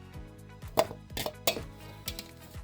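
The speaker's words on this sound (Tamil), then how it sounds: "மிளகாய் ஒரு 3 நறுக்கி போட்டுக்கணும் பொடிப்படியாக." A knife taps rapidly on a cutting board in quick, light chops, finely cutting green chillies, close and fairly quiet, with no one speaking.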